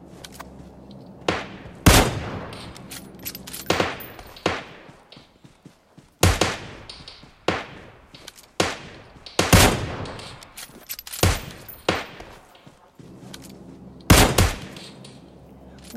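Sniper gunfire in PUBG arcade mode: about a dozen sharp, loud rifle shots crack at irregular intervals, each with a short decaying echo, over a quiet background.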